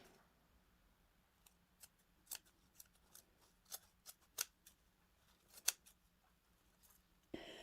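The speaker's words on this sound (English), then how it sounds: "all we're going to do now is just simply cut through this knit here right behind the zipper as carefully as possible" Scissors snip through knit sweater fabric just behind a zipper, a string of faint, close, crisp cuts coming at irregular intervals in a quiet room.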